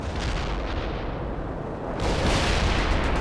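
Artillery strike in the video game World in Conflict: a loud, continuous roar of shelling and explosions that swells even louder partway through.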